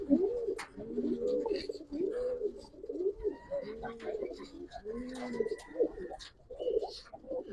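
Pigeons (red dobaj and other fancy breeds) coo repeatedly up close in a low, rolling rhythm, with occasional scuffles and someone talking quietly in the background.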